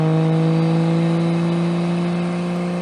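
A racing car engine held under hard throttle, a loud steady droning roar with strong sustained tonal hum, close and continuous with no voices.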